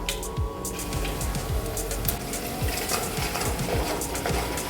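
Dried red chillies and curry leaves being stirred in a pan, a rapid run of repeated scraping strokes over a soft sizzle, close and steady throughout.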